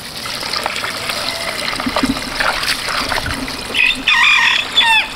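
Farmyard chickens peck and scratch at scattered chicken scratch feed, with soft rustling, a brief cluck and a louder fowl call near the end, close by and without talk.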